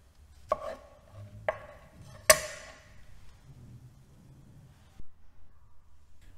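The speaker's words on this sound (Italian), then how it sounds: "Quindi taglia i funghi che hai precedentemente spellato in 4 pezzi." A knife chops peeled mushrooms into quarters on a board, three distinct sharp cuts spaced about a second apart, close and fairly quiet, followed by a soft thud.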